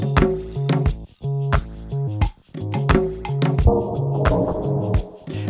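An Elektron Octatrack plays a clean drum pattern, with punchy kicks, snappy hits and bright hi-hats in a steady repeating rhythm that is loud and up close with no talking.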